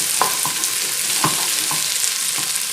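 Vegetables sautéing in a pot for lentil soup give a steady sizzle, with a spoon stirring them around in a few distinct scraping strokes, close and moderately loud, no talking.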